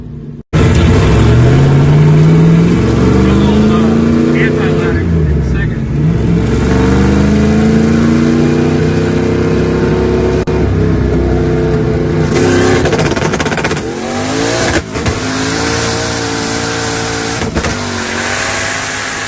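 An LT1 V8-swapped Toyota Supra, running lean, revs hard again and again. The loud, close engine pitch sweeps up and down in repeated bursts, with no talking.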